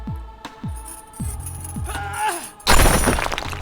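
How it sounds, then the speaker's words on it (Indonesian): Metal chain snapping apart in a video game, heard as several sharp clinking impacts followed by a loud shattering burst with jangling debris. "Masa bisa diputusin rantai,"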